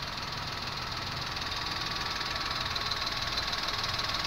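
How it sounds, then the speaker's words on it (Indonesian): A car engine idles steadily, a constant low hum and rattle with a faint ticking, moderately quiet and heard close up with no voices. "Ini kondisi mesin sudah hidup ya."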